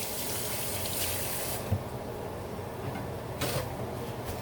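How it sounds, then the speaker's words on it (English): Water runs steadily from a kitchen tap as hands are washed beneath it, a continuous moderate gush with a couple of brief splashy bumps, no talking. "Wash my hands."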